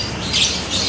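Canaries, white-pied birds among many caged songbirds at a bird shop, give quick high chirps and tweets, mid-distance and fairly busy, with no talking.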